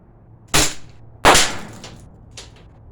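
Two sharp, loud shots from a Glock 19 blowback BB airgun about a second apart, followed by a fainter third pop, with quiet background between them.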